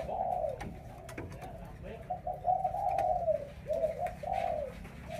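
A caged pigeon coos over and over in soft, rolling phrases, close and fairly quiet, with faint background noise between the calls.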